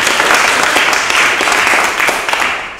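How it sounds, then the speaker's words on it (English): Audience applause fills a debate hall, steady dense clapping from a sizeable crowd held at an even, loud level throughout before tapering slightly at the end. "Can we have a round of applause for that,"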